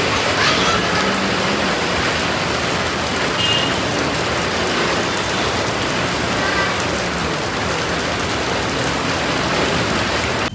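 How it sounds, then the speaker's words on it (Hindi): Heavy monsoon rain pours down steadily in Patna, a loud, dense and unbroken roar of drops hitting surfaces nearby, with no voices. "बहुत ज़्यादा बारिश हो गया"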